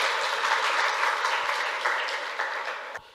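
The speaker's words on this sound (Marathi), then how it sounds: "आपल्या या मित्रासाठी जोरदार टाळ्या" Students at a school event applaud a classmate after a patriotic song, a dense, steady burst of clapping from a group that fades out near the end.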